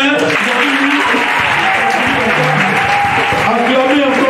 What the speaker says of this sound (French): Acclamez bien.